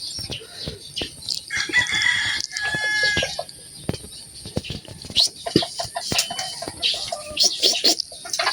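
Chickens cluck and a rooster crows close by in a busy yard, with scattered fowl calls and sharp sounds throughout.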